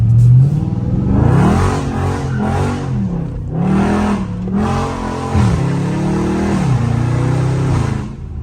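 A Dodge Charger 392 in manual mode revs hard while being driven, its engine rising and falling through several loud, close acceleration pulls and gear changes over steady road noise.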